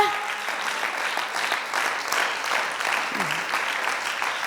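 A church congregation claps steadily for several seconds, a dense, even wash of handclaps with a few faint voices and shouts mixed in.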